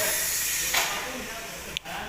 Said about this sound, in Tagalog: ang nakikita natin naging problema nito ay ito singaw yung kanyang intake manifold gasket